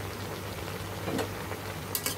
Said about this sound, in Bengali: এখন একটু ভালোভাবে শাকগুলো উল্টিয়ে নেব